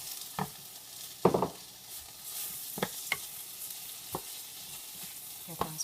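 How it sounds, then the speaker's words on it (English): Vegetables and portabella mushrooms saute in coconut oil over high heat for a gluten-free vegan artichoke and jalapeno stir fry. A steady close sizzle runs throughout, broken by several sharp clacks of stirring. "Saute these guys in coconut oil."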